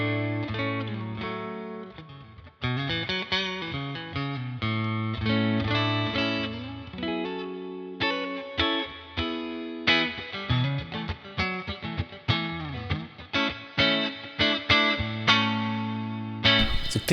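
An electric guitar plays through a Sonicake Fazy Sandwich triple-fuzz pedal into a NUX Solid Studio Mark II set to a clean Fender deluxe reverb sound. Chords and picked notes ring out steadily, then quicker, more staccato phrases follow, with no talking.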